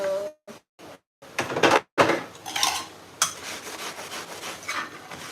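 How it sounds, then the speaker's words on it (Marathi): Dishes being washed: clinks of pots and utensils, scraping and rubbing, with short silent gaps early on, fairly close. "मी इकडे भांडी क्लीन करते"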